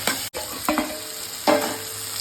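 Tomato going into a pan of frying white brinjal curry with green chilli and fresh coconut, stirred in short scraping bursts over a steady background sizzle, no voices.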